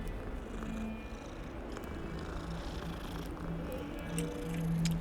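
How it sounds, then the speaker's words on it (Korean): Black cat purring in the Hogwarts Legacy game, a soft, steady low rumble running continuously under faint background ambience, close and gentle throughout. "그르릉 되는 거 보소"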